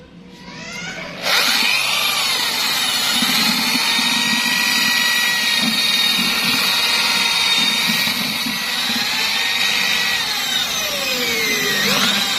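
A power drill whirs steadily at low RPM for about ten seconds after a quick spin-up, its pitch dipping slightly as it churns a thick JADAM wetting agent mixture, loud and close, with no voices.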